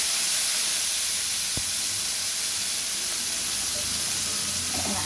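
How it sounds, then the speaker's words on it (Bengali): Dried fish (shutki), washed beforehand, frying in hot oil in a home kitchen: a steady, loud hiss and sizzle that fills the whole stretch, with a brief clatter partway through and no talking. "তেল দিয়ে দিলাম। এবার শুটকিগুলো দিয়ে দিব"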